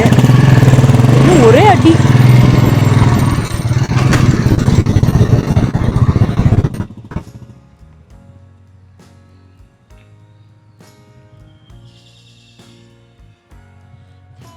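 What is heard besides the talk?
Royal Enfield Bullet motorcycle engine riding off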